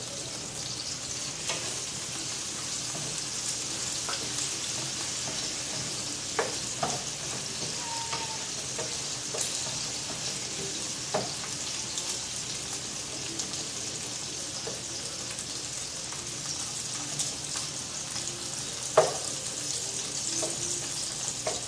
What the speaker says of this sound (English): So the shrimp and the bok choy, you have to keep an eye on it and keep stirring it